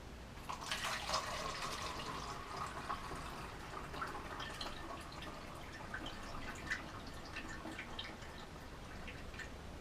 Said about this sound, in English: And then I'm just going to pour it into my bottles.